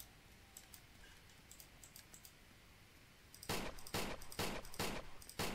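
Makarov pistol shots in a Roblox game. Faint distant pops come first, then a loud, close burst of rapid shots in quick succession near the end.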